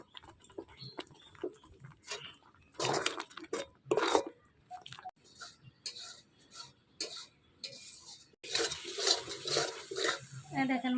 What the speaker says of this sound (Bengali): আস্তে আস্তে জল দেবো আর কষাবো।